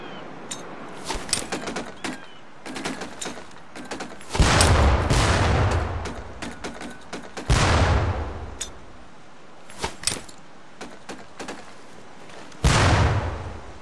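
Training grenades explode near barrels on a WWII Pacific boot-camp range in the Medal of Honor Pacific Assault game, with loud booming blasts at intervals. Between them comes a crackle of rapid sharp gunfire pops.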